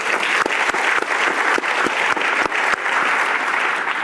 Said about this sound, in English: So let's give a round of applause for Bret.